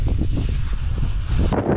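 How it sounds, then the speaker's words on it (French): Strong gusting wind at a paragliding launch site buffets the microphone in a loud, continuous low rumble, with no voices. "toujours du vent fort, mauvaise maîtrise de la voile"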